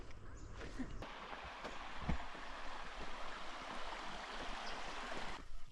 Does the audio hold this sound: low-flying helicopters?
no